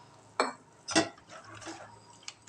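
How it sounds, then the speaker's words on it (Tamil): Water pours into flour batter for chicken rolls in a few soft, short splashes, quiet and close. "கொஞ்சம் தண்ணி ஊற்றிக்கலாம்."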